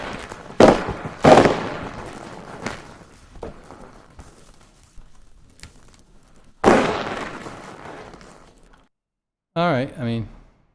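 AI-generated fireworks effect with several sharp bursts and crackling pops spaced irregularly, loud cracks followed by fizzing tails, ending with a brief whistling warble.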